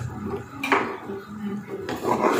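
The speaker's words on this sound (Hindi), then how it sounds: "इसी तरह हम थोड़ा थोड़ा डालते जाएंगे और चम्मच को हिलाते जाएंगे" A spoon stirs cornflour into soup in a pot, giving two distinct metallic clinks against the pot amid softer scraping, while a person talks over it.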